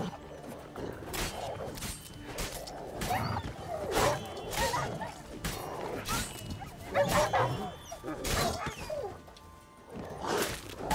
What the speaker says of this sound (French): En train de se faire manger par les chiens égarés.